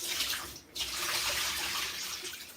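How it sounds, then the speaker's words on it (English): Running water rinsing soaked starch out of food under a tap, a loud, steady splashing gush close by, briefly dipping for a moment before continuing. "So we're gonna rinse it out now and get it back fresh again."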